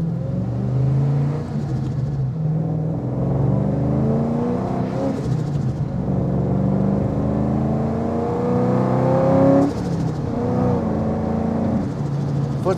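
A custom 2007 Ford Mustang GT engine revs and pulls steadily while driving, its note rising and easing through several gear changes, loud and continuous with no talk.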